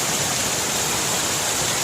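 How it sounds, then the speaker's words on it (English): Groundwater creek pouring out of a mountainside at a camp in the hills, a close, loud, continuous rushing splash of running water with no break. "is pouring out of the side of the mountain, and it's basically just groundwater seeping through from this creek right here"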